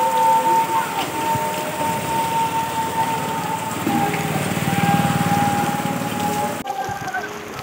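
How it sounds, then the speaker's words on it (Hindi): Steady rain falls through a long wet spell in an outdoor setting, a dense hiss that swells and eases over several seconds, with a faint high engine-like whine running underneath before the sound cuts sharply near the end. "बारिश रुक ही नहीं रही है, कंटिन्यू चल रही है, मतलब कम हो रहा है फिर तेज़ हो रहा है"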